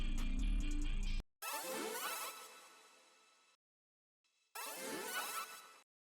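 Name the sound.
little string flicks in a beat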